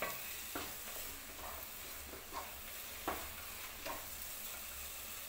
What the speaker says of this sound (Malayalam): നല്ലപോലെ ഇളക്കി കൊടുക്കാം